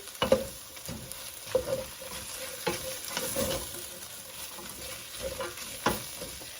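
Large sliced onion sizzles softly in a pot for a cube-steak stew, with a spoon scraping the bottom in several distinct strokes over a low, steady frying hiss.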